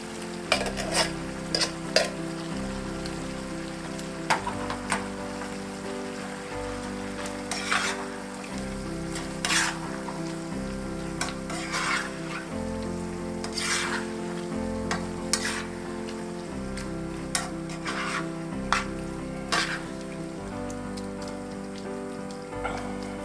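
Diced tomatoes hit a hot pan of Hungarian goulash sauce, giving a steady loud sizzle with repeated stirring scrapes and clicks over about twenty seconds, with no talk.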